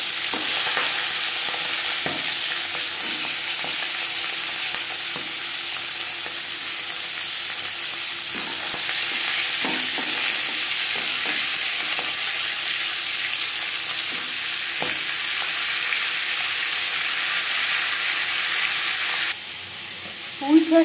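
A marinated fish head fries in hot refined oil, giving a loud, dense, continuous sizzle close by that runs steadily for about twenty seconds, with occasional stirring clinks and a brief change near the end.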